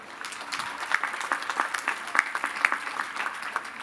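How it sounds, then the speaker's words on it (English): Moderately distant audience applause at the Lehman College class of 2018 graduation ceremony, continuous crowd clapping with a few louder individual claps and occasional whoops standing out. "Give them applause."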